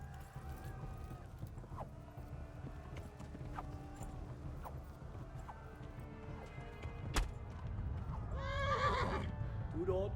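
Horses in the medieval game Kingdom Come: Deliverance whinny and neigh repeatedly as hooves clip-clop beneath, with creaks and clanks of gear, all fairly quiet, ending in a louder whinny.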